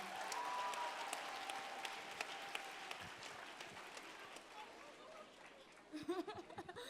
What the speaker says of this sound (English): Let's have a round of applause for your affirmative team.